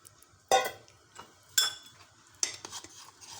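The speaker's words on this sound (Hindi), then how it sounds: "अच्छी तरह इसको मिक्स कर लूँगी।" A spoon stirs and clinks against a pot while cocoa powder, cornflour and milk are mixed for homemade chocolate ice cream. Three or four sharp scraping clinks stand out over a faint background.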